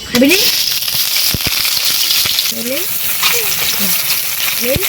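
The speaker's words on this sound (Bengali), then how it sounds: "কড়াইতে আবারও সর্ষে তেল তেলের মধ্যে দিয়ে দিচ্ছি পাঁচ ফোড়ন এবারে দিয়ে দিচ্ছি পেঁয়াজ কুচি" Chopped onion hisses and crackles steadily after hitting hot mustard oil with panch phoron in a wok, a dense, close sizzle filling the whole stretch while a voice speaks briefly over it.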